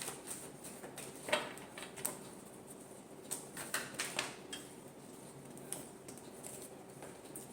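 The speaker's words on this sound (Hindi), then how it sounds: "एक लास्ट शफल करते हैं।" Tarot cards being shuffled by hand in a quiet room: soft, brief riffling and tapping bursts come in small clusters, the busiest stretch late in the middle, all faint and close.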